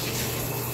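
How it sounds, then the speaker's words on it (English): Water pours steadily into a bathtub, a continuous dense rushing hiss with no breaks across the whole short moment. "Why is the water filling up in here?"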